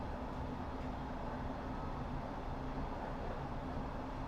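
A London Underground S-Stock train on the Metropolitan Line in Train Sim World 2020 gives off a steady motor hum over constant rolling rumble, faint and unbroken.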